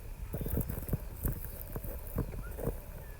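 Horses, one white and one orange, walk on dry ground among parched, burnt grassland, their hooves giving clear, uneven clip-clop strikes at a relaxed walking pace, fairly close and distinct over a quiet outdoor background.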